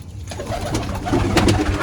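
Pigeons coo in soft, throaty bursts close by, several birds overlapping against a rustling background.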